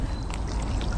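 Water pours out of a fake fishing catch, a steady splashing gush filling the whole short moment with no speech over it.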